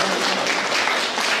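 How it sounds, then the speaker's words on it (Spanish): A crowd gives a student a round of applause, a dense, even wash of many hands clapping at once, fairly loud and continuous throughout with no voices over it. "yo quiero que le den un aplauso a mi mejor alumno"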